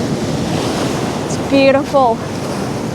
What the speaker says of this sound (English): I want to capture the power of the waves as they're coming through